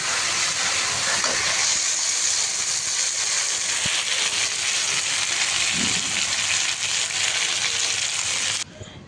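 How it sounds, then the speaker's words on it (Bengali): Raw spices frying in a pot for mutton curry give a loud, continuous close-up sizzle and hiss that holds steady for about eight seconds before cutting off abruptly. "কাঁচা মশলাগুলোকে আমি ভালো মতো আগে একটু ভেজে নেব"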